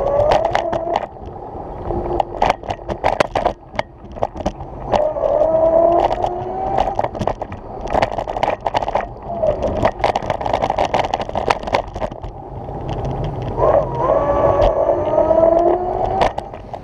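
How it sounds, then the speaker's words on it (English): Electric motor of a lightweight Uscooters Booster kick scooter while riding, a steady whine with rising and falling tonal sweeps over continuous road rumble and scattered clatter, close and fairly loud throughout. "You should also be able to hear the motor"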